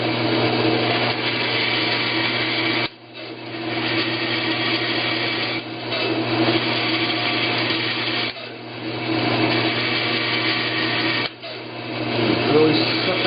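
A saw cutting small parts for a reservoir model runs steadily with a droning whine, pausing briefly several times between cuts, close and fairly loud.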